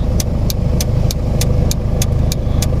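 A car driving along, heard from inside as a loud, steady engine and road rumble with a faint regular ticking pattern repeating about every third of a second, no talking.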